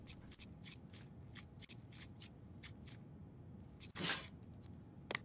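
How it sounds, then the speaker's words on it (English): Four power supply bolts unscrewed in the video game PC Building Simulator 2, heard as faint ratcheting, clicking mechanical ticks in quick repeated bursts, quiet and close. "Okay, then it should be just the four bolts."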